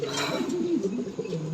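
A pair of White Mondain pigeons coo softly and repeatedly in a fancy pigeon loft, with low, rolling calls close by over a faint steady background hum.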